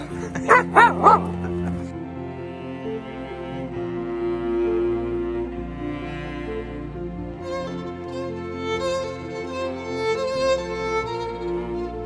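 Dogs at an English country manor give a burst of loud barks near the start, then settle into drawn-out whimpering and whining yips that rise and fall for the rest, close by with no talking over them.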